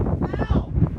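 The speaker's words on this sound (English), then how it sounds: "It's getting really windy here on the southeastern tip of Gush Etzion above the Judean desert." Wind gusting across an outdoor microphone on a hilltop at the southeastern tip of Gush Etzion above the Judean desert, a steady low rumbling buffet that swells and dips throughout with no pause.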